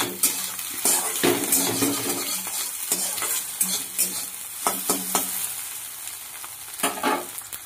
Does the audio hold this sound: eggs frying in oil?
yes